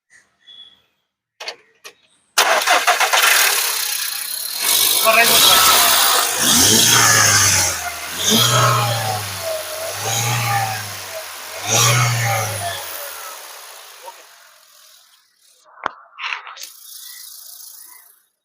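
A petrol Volkswagen Vento Highline, white, starts with a sharp crank and settles into a steady nearby idle with rhythmic low pulses, a few clicks and handling noises before and after.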